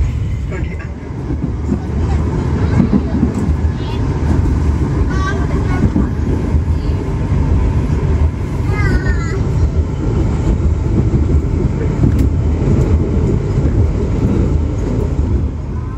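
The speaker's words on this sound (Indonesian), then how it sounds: "akhirnya kereta api Lodaya sudah memasuki stasiun Banjar" KA Lodaya passenger train pulling into Banjar station, a loud continuous rolling rumble heard from on board, steady throughout, with faint muffled voices underneath.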